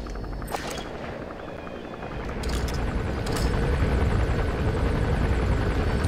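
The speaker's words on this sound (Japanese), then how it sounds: "そちらに向かっていたヘリが引き返した。" Helicopter in the video game Metal Gear Solid V: The Phantom Pain, a steady rotor rumble that swells louder partway through and stays strong, with a few sharp bangs like gunfire over the top.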